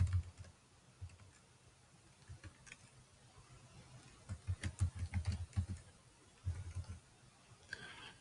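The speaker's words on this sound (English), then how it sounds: "So I can start typing some choices in here." Soft, scattered keyboard typing in a quiet room, a few bursts of quick clicks with pauses between them.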